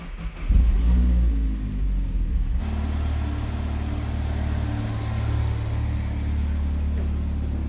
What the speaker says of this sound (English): we put back all the remaining parts and started the engine